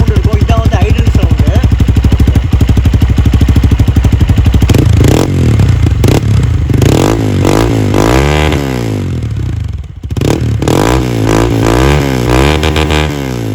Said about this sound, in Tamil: ஸோ வண்டியை நம்ம ஐடியலாக விட்டோம் அப்படின்னா இப்படி தான் சவுண்ட் இருக்கும்.